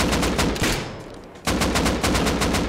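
Rapid automatic gunfire in the video game Rust: two loud, close bursts of evenly spaced shots split by a short gap, with nothing else heard.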